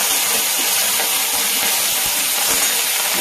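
Curry leaves dropped into hot oil give a loud, continuous, close hiss that stays even from start to finish, with no other sound.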